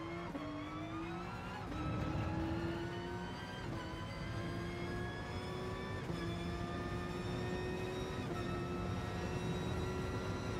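A Porsche 911 RSR engine in GT Sport at Tsukuba, held at a steady, high, rising whine as the car accelerates, with brief shift dips and no other sounds, fairly quiet overall.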